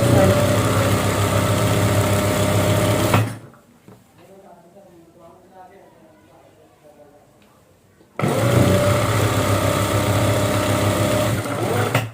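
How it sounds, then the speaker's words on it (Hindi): An electric sewing machine stitches fabric for a sofa cover. It runs loud and close in two long continuous bursts, separated by a quieter pause of about five seconds. "मैंने सिलाई लगाना स्टार्ट कर ली है।"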